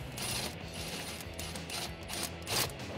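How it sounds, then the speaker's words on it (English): A ratchet fitted with a 10mm socket clicks steadily while loosening the intake tube and airbox clamps on a Toyota Tacoma, a close, quiet run of metallic pawl ticks with no talking. "Then we can loosen up the one that's on our airbox and our intake tube using the same 10mm socket."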